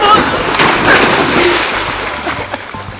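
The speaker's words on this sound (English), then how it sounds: "The dogs love jumping in." Dogs leap and splash into water on a trip in the Florida Keys, a burst of splashing and sloshing close by with rippling water throughout, while people speak and call out over it.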